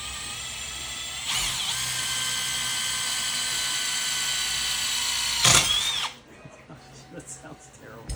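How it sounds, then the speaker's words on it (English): Power drill whines steadily as it bores through a generic motorcycle swing arm, running for several seconds with a brief pitch shift before stopping, followed by faint handling noises. "this stuff's actually pretty easy to drill through"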